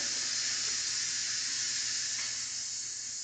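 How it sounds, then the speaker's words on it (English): A steady, broad hiss of steam escaping from cooked potatoes, loud and constant for a few seconds with no talking. "So we're going to let the steam out of these."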